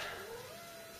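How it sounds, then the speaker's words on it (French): A female cat in heat meows in a room, a single faint, drawn-out yowl low beneath steady background noise. "Comme vous risquez de l'entendre, mon chat, enfin un des deux, est en chasse."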